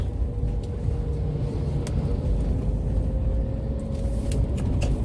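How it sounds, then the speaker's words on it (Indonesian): Busy road traffic on a fairly smooth village road heading toward the city in Palembang, a steady broadband rumble of passing cars and engines that holds constant and fairly loud throughout. "Lalu lintas lumayan ramai guys."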